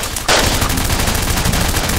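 Sound effect of a G36 machine gun built from layered Uzi and machine-gun recordings, with a steady, loud burst of rapid automatic fire starting abruptly and continuing without pause.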